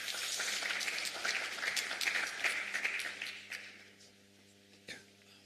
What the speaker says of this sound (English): Thank you, Ibrahim, and round of applause, please.